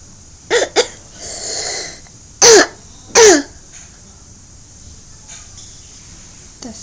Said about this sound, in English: That's such a yucky cough.